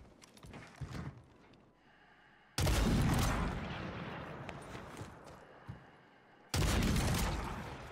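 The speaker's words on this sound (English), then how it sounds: "I'm getting shot by a different team" Bursts of gunfire from an opposing team in Call of Duty Warzone on Rebirth Island, with a loud sustained volley in the middle and a second sharp burst near the end, over quieter game noise.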